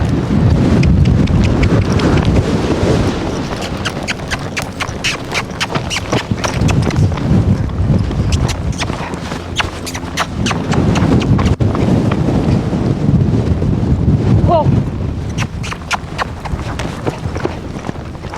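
Horse hooves during a barrel racing lesson in an arena, a steady run of clip-clop footfalls close to the microphone, with wind buffeting throughout and no talk over them.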